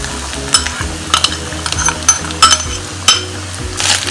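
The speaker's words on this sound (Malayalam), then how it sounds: "ചുവന്ന് വരുന്ന വരെ, അതായത് ഒരു ഗോൾഡൻ കളർ ആവണ വരെ ഒന്ന് ഫ്രൈ ആക്കണം" Grated coconut frying and being stirred in a pan, with a steady sizzle broken by repeated scraping and clinking strokes of a spoon against the metal, close and fairly loud, with no one talking.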